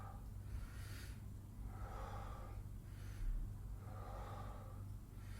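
Slow breathing during a warm-up routine: two long, broad airy exhales or blown breaths a couple of seconds apart, close and clear over a steady low hum, with no talking.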